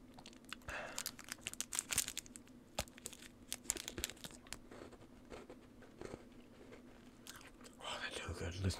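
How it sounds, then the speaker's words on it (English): Close crunching and chewing of a chocolate bar, repeated crisp bites and wet mastication in irregular bursts, with faint crinkling of the wrapper toward the end. "Listen to that crunch."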